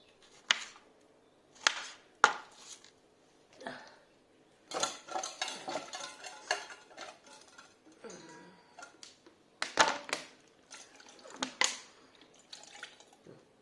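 Vegetables are cut on a board with a knife in a home kitchen, giving scattered sharp taps followed by a quicker run of chops, close and fairly quiet, with some brief talk mixed in.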